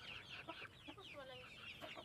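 Soft, rapid peeping and chirping from several small chicks eating, continuous and close, with faint scratchy movement underneath.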